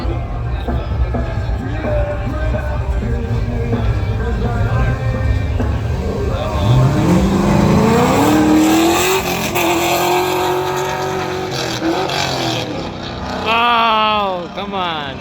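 Drift cars at a night drifting event, the lead car running big power, roar and rev loudly and near, engine pitch climbing and falling through sweeps with a sharp rising rev near the end, while voices talk over the noise.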